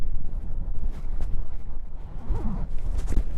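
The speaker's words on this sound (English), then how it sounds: "it's getting windy now, so hopefully this" Gusty wind buffets a lapel microphone at Monastery Beach in Saranda, Albania, a steady low rumble that swells and drops throughout with no speech over it.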